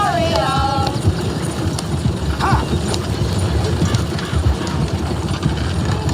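Horse hooves clopping steadily in the video game Red Dead Redemption 2, a busy rhythmic patter under game ambience, with a brief whistle-like tone early on.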